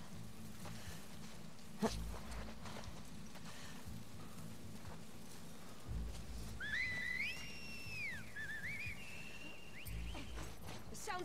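Scar cultists in The Last of Us Part II signal each other with whistles: a pair of sliding, bird-like calls at mid-distance that rise and fall over a low ambient rumble, after an earlier sharp thud.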